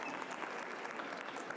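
Faint but dense applause from a convention crowd at a fan panel for a cartoon voice actor, a brief, even burst of many hands clapping.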